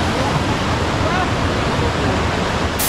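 Dudhsagar waterfall with water pouring down from above, a loud, close, unbroken roar of rushing water that fills the whole stretch with steady hiss and rumble.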